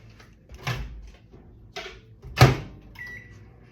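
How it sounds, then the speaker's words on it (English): A microwave oven heating corn tortillas: a few soft clunks and thuds of the door and handling, with a sharper knock near the end, over a faint low background hum. "I'll put these in the microwave on top of here for about maybe 30"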